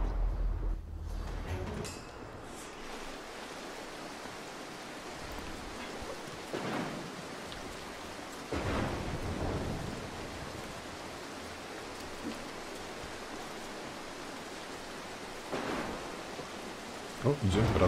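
Steady rain hisses through a thunderstorm in the stealth video game Mark of the Ninja, with a few rolling thunder cracks rising and fading over the constant downpour.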